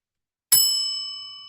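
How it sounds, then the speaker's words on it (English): A single bright electronic ding from a countdown timer marking one minute left, a sharp metallic strike with a ringing tail that decays over about a second, heard alone. "you'll hear a ding that sounds like this"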